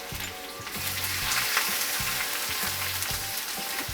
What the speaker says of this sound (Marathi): त्याच्यामध्ये कढीपत्ता, 1 चमचा लसूण आहे बघा, लसूण आणि आलं ठेचलेलं,